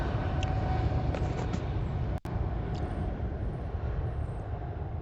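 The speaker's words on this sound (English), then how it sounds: "I think the cameras picked up a 380 landing on the southern runway" Airbus A380 from Doha landing on the southern runway at Heathrow, heard as a steady distant roar of jet engines that holds throughout, with a brief dropout partway.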